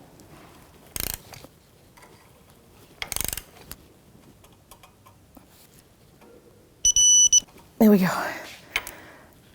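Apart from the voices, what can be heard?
torque wrench tightening Jeep Patriot strut mount nut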